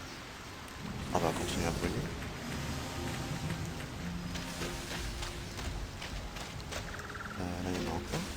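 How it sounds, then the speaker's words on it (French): Steady rain falls in the video game Sky: Children of the Light, a constant hiss of drops under intermittent chimes and game sounds, while a person speaks partway through. "il y a la pluie qui nous tombe dessus"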